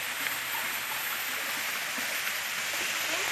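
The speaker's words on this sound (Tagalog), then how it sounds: "Abot na tayo sa Prinsesa Falls." Prinsesa Falls in Santiago, Caraga, Davao Oriental, Philippines pours down with a constant hissing rush of falling water, even and fairly close, with no voices.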